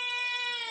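A hungry cat gives a single short, high meow close by, asking for food.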